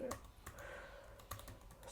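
Sharp clicks of keys on a computer keyboard come in a few scattered strokes, close and fairly quiet against a faint background hum.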